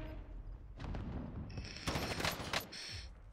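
Automatic weapon fire from Call of Duty: Warzone, rapid bursts growing louder toward the middle, with a dense volley around two seconds before fading back to a softer background rattle.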